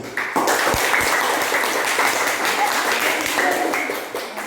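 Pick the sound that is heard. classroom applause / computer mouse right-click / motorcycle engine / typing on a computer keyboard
classroom applause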